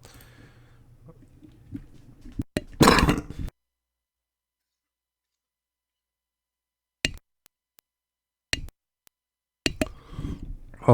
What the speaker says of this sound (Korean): 기침이 계속 나와가지고 죄송해요